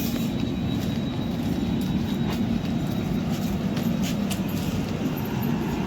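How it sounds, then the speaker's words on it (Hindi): A passenger train runs on rails with a steady, loud rumble and rattling wheel noise, continuous throughout, heard from on board with faint squeals above the roar. "बस हम ट्रेन में बैठेंगे फटाफट से और निकलेंगे यार।"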